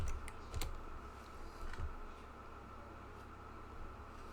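Typing on a computer keyboard while entering a plugin search on a website dashboard: a few soft, close keystroke clicks in short bursts over a steady low hiss, with no talking.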